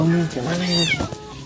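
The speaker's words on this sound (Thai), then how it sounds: "แมวตกท่อ" A cat that has fallen into a drain meows repeatedly in drawn-out, rising and falling cries, loud and close, with voices talking over it.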